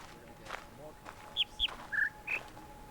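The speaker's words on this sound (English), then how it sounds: "There's speakers that are playing sounds, and you have to listen to these bird calls" In The Witness, speakers play four short, clear bird chirps in quick succession, each a bright, distinct call against a quiet background with faint low rustling.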